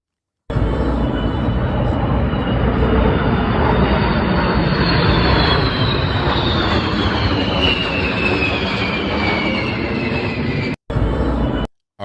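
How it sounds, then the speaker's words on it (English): Low-flying jet planes pass overhead in a flyover, producing a loud, sustained roaring rush with a slowly descending whine. The sound holds for around ten seconds and is briefly cut off near the end. "these flyovers, I love them. I love the planes."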